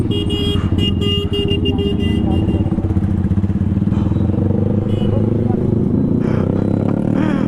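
A KTM 390 motorcycle rides through traffic with a loud, steady engine drone close to the mic, wind buffeting over it and faint horns and other vehicles in the background.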